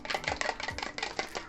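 A utensil stirring sempol chicken batter mixed with egg, broth and pepper in a bowl, giving quick repeated scraping and clacking strokes in an uneven rhythm, close and fairly loud with no voices.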